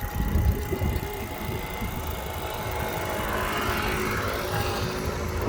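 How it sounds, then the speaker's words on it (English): A moped engine passes on a street, a steady droning motor hum that rises slightly and holds, loud and close throughout with no voices over it. "look at, there's a moped"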